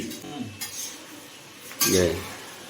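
A metal spatula scrapes and clinks against a cooking pot at an outdoor picnic, with a few short scraping strokes and one louder clatter near the end. People talk in the background.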